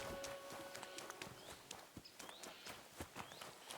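Horse hooves clip-clop in an uneven walking rhythm in the video game Kingdom Come: Deliverance II, fairly close, with soft ambient tones in the background and no talking.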